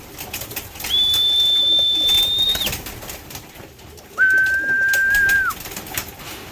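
Racing pigeons at a loft after a flight, with two clear sustained whistle-like tones a few seconds apart over a soft outdoor background.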